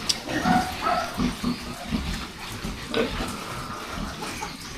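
Pigs on a pig farm grunting repeatedly in short, low snorts amid a busy, noisy pen background, moderately close.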